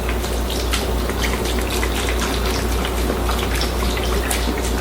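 Chicken broth poured into a crock pot, a steady close gushing and splashing of liquid that runs without a break for about five seconds.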